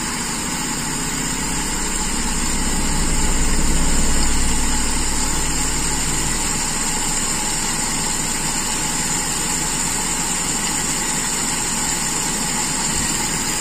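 The engine of a Toyota Kijang Super idles steadily up close, with a low throb that briefly deepens and strengthens before settling into a smooth, even hum as the idle speed is raised; no one talks.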